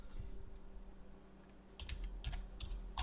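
Keys clatter on a computer keyboard in a quick cluster of sharp clicks during software work, over a low steady hum, with no voices.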